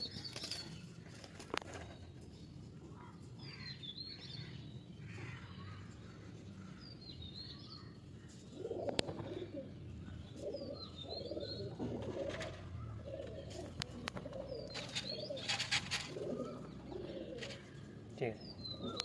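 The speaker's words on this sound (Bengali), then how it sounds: "দেখুন খুব ভালো কোয়ালিটির পায়রা" Pigeons at a loft selling tournament birds coo softly and steadily throughout, with occasional wing flaps and a brief louder flutter near the middle, over faint background talk and ambient noise.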